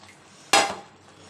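Cooked rice stirred once with a metal spoon in a kitchen pot, heard as a single sharp scraping clatter that fades quickly, close and alone with no talking.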